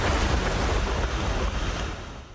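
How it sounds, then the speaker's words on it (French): Huge storm waves crash against the coastline as Hurricane Ophelia's violent winds roar, a dense, continuous wash of surf and wind noise, loud and close, slowly easing toward the end. "Le littoral a été frappé par des vents violents et des vagues énormes."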